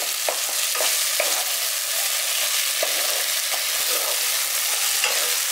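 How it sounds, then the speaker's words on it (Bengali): Tomatoes fry in a pan with a loud, constant sizzle as a spatula stirs and scrapes them in repeated short strokes, heard up close with no one speaking. "টমেটোগুলো দিয়ে দেওয়ার পর টমেটোগুলোকেও ভালো করে নাড়াচাড়া করে নরম করে নিচ্ছি।"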